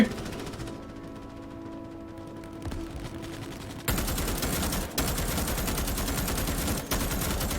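A turret-mounted gun in the video game Starship Troopers: Extermination fires in a dense, continuous loud burst, starting after a quieter stretch of game ambience with sporadic shots, then sustained rapid gunfire with brief dips.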